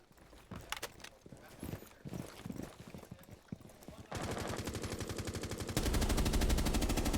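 Rapid gunfire from a Rainbow Six Siege collegiate esports match, with bursts of automatic shots and barrier-breaking impacts growing louder and denser toward the end, playing over game ambience.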